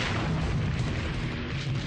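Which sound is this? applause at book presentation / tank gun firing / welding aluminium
tank gun firing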